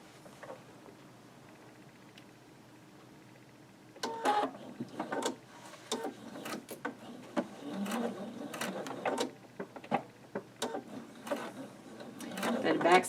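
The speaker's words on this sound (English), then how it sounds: "stitch from the center at the X out to the edge" A quilt block seam for a spool block is stitched on a sewing machine in short bursts of mechanical chatter starting after a quiet opening, stopping and restarting irregularly at close range.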